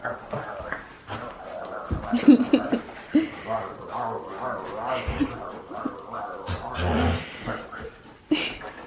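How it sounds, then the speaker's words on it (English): A dog growls and whimpers with little yips in a playful scuffle over a squeaky toy, close by, while a person talks over it. "You growling at me?"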